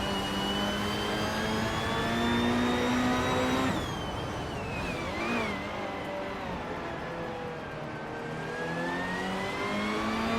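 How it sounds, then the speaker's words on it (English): Racing car engines roar continuously through a video game race, a loud sustained whine that shifts pitch as the cars accelerate and change gear, with no talk. "Kilo Juliet Delta just zoomed to first place, leaving the pack behind."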